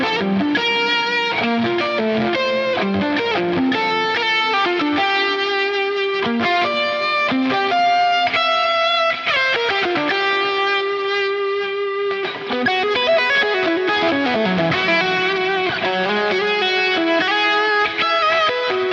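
Electric guitar through a Line 6 Helix preset, playing a flowing melodic line drenched in echoing delay and spacious reverb, notes ringing and overlapping continuously, with no voices.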